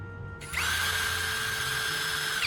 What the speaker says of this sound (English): Then I'll spin it to grind the long shaft into a sharp tip.